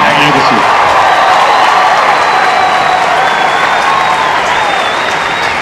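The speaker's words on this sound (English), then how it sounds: "Great excitement in the crowd as for the first time he breaks" Tennis crowd at Cincinnati 2004 first-round match, Agassi vs Fish, applauding loudly and steadily as Agassi breaks serve, dense sustained clapping with cheering throughout.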